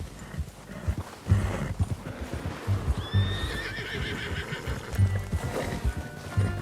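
A horse in Red Dead Redemption 2 gallops with steady, close clip-clopping hooves and gives one loud, drawn-out whinny partway through, while the hoofbeats keep going underneath.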